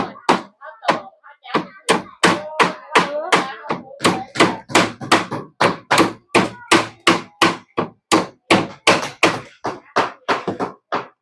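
Nails are hammered into a wooden cabinet in a fast, steady series of about thirty sharp, loud blows, each ringing briefly before the next.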